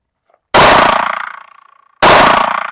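Two loud, close pistol shots fired during a shooting drill, about one and a half seconds apart, each a sharp crack with a ringing decay that fades before the next.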